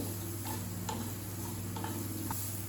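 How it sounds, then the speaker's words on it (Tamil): Onions sauté in a pan for a potato and pork sausage stew, a soft, steady sizzle over a low hum, with faint ticks and light stirring. "நான் இப்போ வெங்காயம் போட போகிறேன் வதக்கிறதுக்கு"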